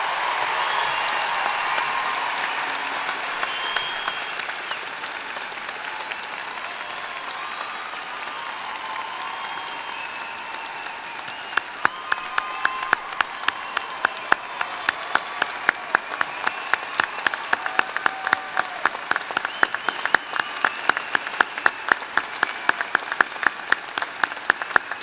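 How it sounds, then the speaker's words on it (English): Sustained applause from a large university commencement audience in 2014, a dense wash of clapping that swells into sharper, distinct claps in the second half and carries on throughout without talk. "You also broke a record on applause after your remarks"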